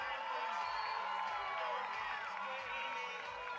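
A crowd at a track championship meet in Glassboro, New Jersey cheers an athlete, a steady wash of distant whoops and shouting with an announcer talking over it.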